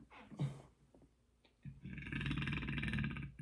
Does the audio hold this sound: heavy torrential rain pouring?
no